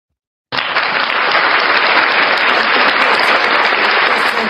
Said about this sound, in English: make them hands clap